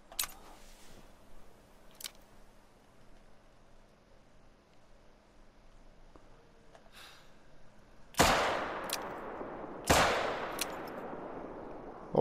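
Two loud .44 handgun shots ring out at caribou in a hunting video game, about two seconds apart, each a sharp crack with a lingering tail, after a long quiet stretch with faint clicks.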